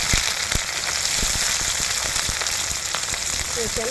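Onions hiss and crackle as they drop into hot oil already spiced with cumin and dried chilli for a potato and pea curry, a continuous loud sizzle with scattered pops and no speech.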